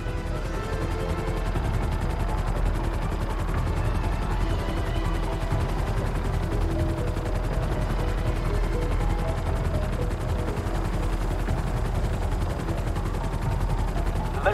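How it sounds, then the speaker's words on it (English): A stealth helicopter in the GTA Online Cayo Perico heist video game gives a loud, continuous rotor drone with a fast steady chop throughout. "Rappel out of this chopper before it gets blown to pieces."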